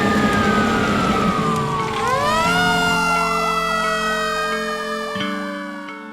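A code 3 ambulance siren wails loud and close, sweeping in long rising and falling tones that shift into a faster yelp partway through, with a heavy engine rumble underneath.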